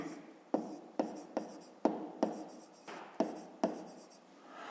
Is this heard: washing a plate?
no